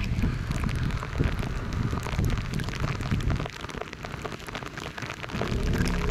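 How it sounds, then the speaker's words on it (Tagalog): Heavy rain pours down steadily, a dense continuous roar of drops hammering a surface close by. "sobrang lakas ng ulan"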